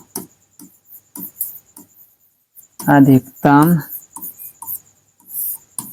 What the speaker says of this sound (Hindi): हल लिख देते हैं